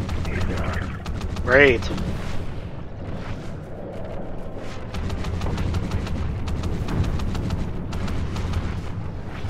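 Gunfire in the Call of Duty: Ghosts campaign, rapid bursts of shots cracking over a rumbling battle bed, with a louder blast early on; someone speaks briefly over it.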